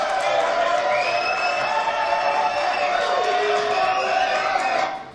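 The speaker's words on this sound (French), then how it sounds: "Applaudissements, s'il vous plaît." A television studio audience cheers and applauds a guest chef-author, a steady, dense wash of clapping and whoops holding for several seconds before tapering off at the end.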